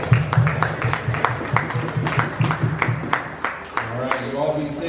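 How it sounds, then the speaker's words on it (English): Audience applause for the vendors at a ham radio expo, with a dense patter of clapping that carries alongside a voice talking over the top and tapers toward the end. "Can we give a round of applause to the vendors?"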